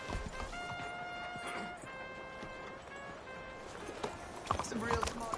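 A galloping horse's hooves in the video game Red Dead Redemption 2: soft, rhythmic hoofbeats over sustained background tones, fairly faint and continuous throughout.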